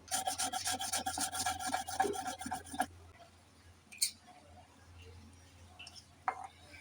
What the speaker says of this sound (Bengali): সবগুলা দিয়ে এখন মরিচগুলো বেটে নেব।